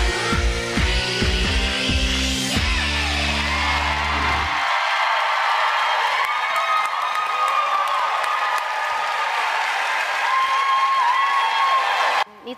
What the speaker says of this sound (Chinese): 观众还起立鼓掌